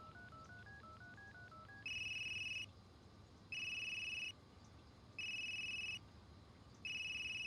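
A quick run of telephone dialing tones is followed by a ringback tone that repeats in regular on-off bursts as a call goes out to an unknown number, with no voices.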